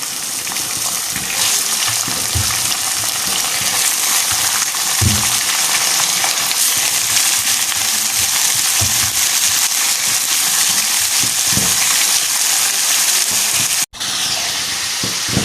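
Two kilograms of chicken frying in a pot with golden onions gives a loud, steady hiss and sizzle that runs throughout, with faint clinks and stirring, then a brief break near the end.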